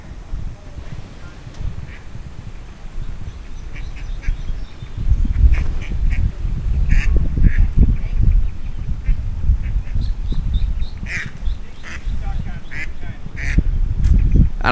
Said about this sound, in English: apparently there's a duck over here stuck on a lure